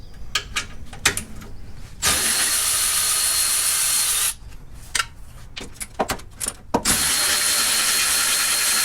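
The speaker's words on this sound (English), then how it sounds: "I'm going to use my Milwaukee long reach ratchet with a short extension and a" Milwaukee long reach ratchet with a short extension and 12mm socket working on a Land Cruiser engine cover: bursts of rapid close ratcheting clicks alternate with long stretches of loud steady whirring, with no talk.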